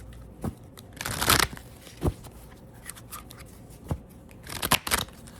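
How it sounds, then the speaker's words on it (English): Tarot cards are shuffled by hand up close, making crisp riffling bursts and short papery slaps in uneven clusters with brief pauses between, and no voice over them. "Let me shuffle them so y'all can see it."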